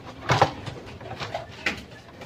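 Pigeons kept in a coop at night coo softly in a few low, separate calls, close by and alone with no talk.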